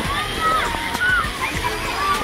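Water splashing and sloshing at an outdoor water park at Rocky Point Park in Port Moody, a steady wash of spray heard under faint crowd noise and voices.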